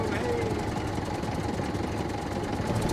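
A tractor idles in the survival game Scum, its loud, even engine rumble continuous throughout with a faint voice underneath.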